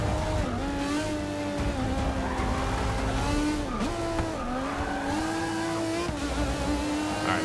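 An Aston Martin races in Forza Motorsport 6, its engine revving loud and close, climbing and dropping sharply through gear shifts with a continuous high-pitched whine and no talk.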